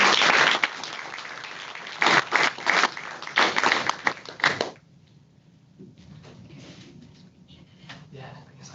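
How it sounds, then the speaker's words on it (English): Applause from an audience at an astronomy talk, loud clapping for about five seconds that fades to quiet rustling and murmur. "let's give Matt a big round of applause"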